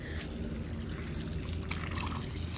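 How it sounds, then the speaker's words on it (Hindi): Water pours from a garden hose onto a lawn in a village garden, a steady, faint splashing rush without pause. "ये देखिए अब पानी का प्रेशर कितना है।"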